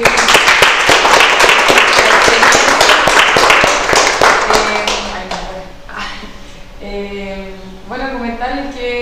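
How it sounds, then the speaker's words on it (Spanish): Audience applause after an agroecology talk by a group of farmer promoters: a dense, loud burst of clapping fills the first half, then thins out and gives way to people speaking. "entonces le damos un fuerte aplauso a Jaime."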